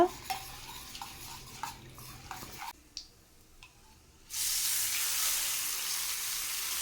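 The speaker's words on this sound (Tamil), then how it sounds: "சேர்த்துட்டு நல்லா கலந்து விட்டுக்கோங்க" Spoon stirring a tempering into rava kara kuzhi paniyaram batter in a bowl, with scattered clinks and scrapes against the vessel, then a steady loud hiss in the second half.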